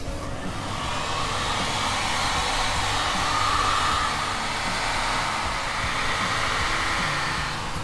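A hair dryer blows steadily at close range, drying the wood finish on a six-string bass with a constant loud whooshing roar and faint motor whine, with no speech.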